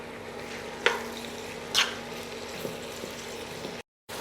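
Onion searing and sweating with a little salt in a pan, a soft continuous sizzle with a few brief scraping stirs as it is moved around, faint and close with no voices.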